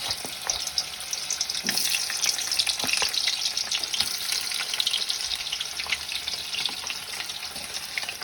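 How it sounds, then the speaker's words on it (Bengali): Chopped onions frying in hot oil during a first attempt at home cooking: a steady, close sizzle with scattered sharp crackles and pops running throughout, with no voices. "তেলটা এখন গরম হচ্ছে আর এদিকে চটপট চটপট এই দিচ্ছে পেঁয়াজ"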